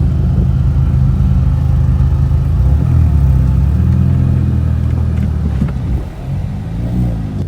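A modded 2014 Ford Fusion engine and aftermarket muffler exhaust idling just after startup, a loud, steady low rumble close by with a slight dip near the end.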